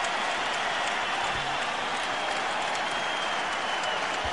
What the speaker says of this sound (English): Brings Michael Jordan out of the game to a standing ovation from the Staples Center